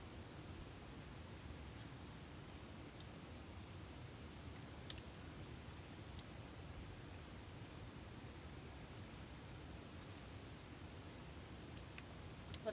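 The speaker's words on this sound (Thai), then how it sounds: "ฝนตกกับบ่หยุดบ่เซา" Continuous rain falling over a farm field, a steady, even hiss of drops with no pauses or voices, faint and diffuse throughout.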